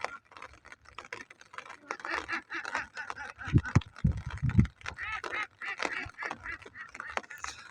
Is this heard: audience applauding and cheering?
no